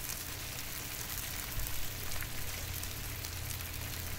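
Breakfast food sizzles steadily on a Blackstone 22-inch griddle, a dense, continuous hiss and crackle close by with no talk.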